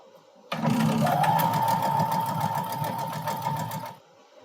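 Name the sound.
sewing machine stitching quilt pieces together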